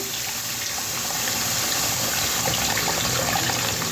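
Water pouring steadily and gushing into a pan while making fish curry, a continuous close, fairly loud rush with no talking.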